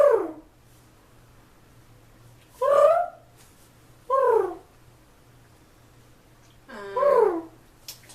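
A person imitates a pigeon's cooing with four short, separate vocal coos spaced a second or two apart in a quiet room, each one a soft warbling call.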